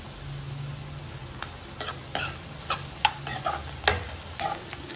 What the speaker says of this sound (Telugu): ఉల్లిపాయలు కొంచెం ఫ్రై అయ్యాయి కదా